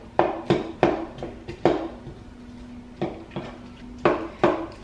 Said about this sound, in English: So here's my bowl of onions, and we're just going to plop those into the butter.